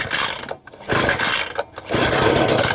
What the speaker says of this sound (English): Pull starter cord 3 to 5 times until initial ignition is heard.